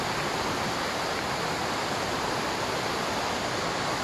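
A flowing mountain stream gives a loud, steady rush of water that fills the whole clip with no pauses and no voices.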